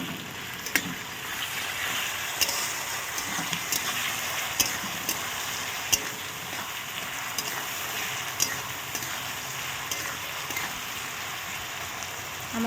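Sliced potatoes fry in hot oil, salted and tinted with turmeric for crisp Bengali fries, giving a steady crackling sizzle with scattered sharp pops, moderately quiet and without voices.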